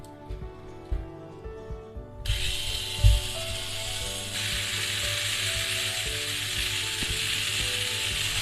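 Hyper Dash mini 4WD motor revved at maximum RPM, a steady high-pitched whine that starts abruptly about two seconds in after faint mechanical clicking, then holds loud and continuous to the end.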